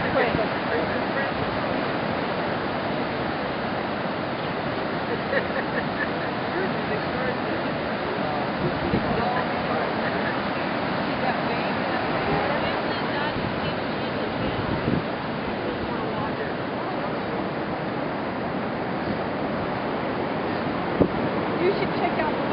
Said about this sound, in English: You should check out the waves down there.